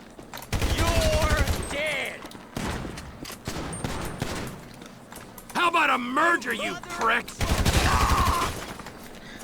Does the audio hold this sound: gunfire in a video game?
yes